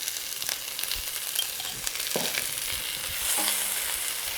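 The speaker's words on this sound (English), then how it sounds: "You'll be stirring your onion and garlic together until the onion has gone clear and it also has begun to brown." Onion and garlic sizzling in a hot pan while being stirred, a steady close frying hiss with occasional scraping and clinking of the utensil against the pan, no voices.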